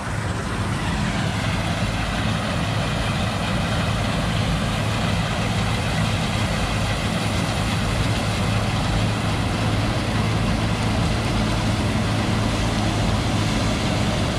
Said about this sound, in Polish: ryk silnika tylko słychać